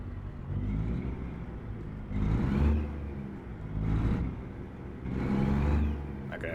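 A Kenworth truck engine in American Truck Simulator drones steadily at mid pitch, swelling in three repeated revving surges as the rig accelerates, with no talking over it.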